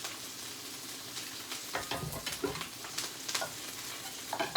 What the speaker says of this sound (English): I'm gonna get these Brussels sprouts in right away.